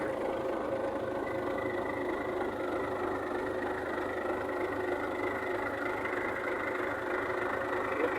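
An MTZ-82.1 tractor engine drones steadily and evenly at a distance while driving a capstan winch, a low continuous hum with no voices.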